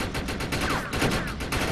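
Rapid automatic gunfire from the player's weapon in the video game Defiance, a dense run of loud, close shots repeating steadily for under two seconds with no talking.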